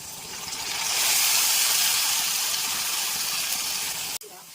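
Onions fry in hot oil as ginger garlic paste goes in for mutton biryani, a loud steady sizzling hiss that swells after the addition and holds, ending with a sharp clank before it drops away.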